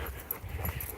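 A dog in the woods whimpers softly, with faint high whines over low rustling for about a second.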